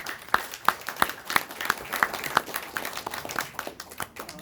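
Audience applause following a speech at a Korean-American Park Chung-hee memorial forum in Los Angeles, a steady patter of many hands with sharper individual claps standing out, moderately loud and sustained with no talking over it.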